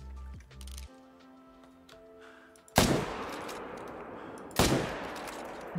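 Two loud hunting-rifle shots in a hunting video game, each a sharp blast with a decaying echo, about two seconds apart, following a quieter stretch of faint ambient tones.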